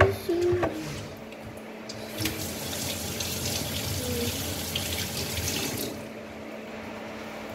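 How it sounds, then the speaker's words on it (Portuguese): Hands are washed under a running kitchen tap, with water splashing steadily into the sink for several seconds. The noise is continuous and fairly close, and the flow eases slightly near the end. "Mas antes eu vou lavar minhas mãos"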